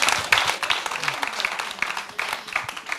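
A television show audience breaks into clapping, fairly close and uneven, with scattered louder claps and some voices mixed in underneath.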